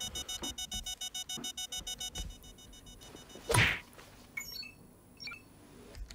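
An alarm from the animated episode Murder Drones pulses as a rapid, even run of about a dozen electronic beeps, followed by a sharp whooshing hit and a few scattered clanks.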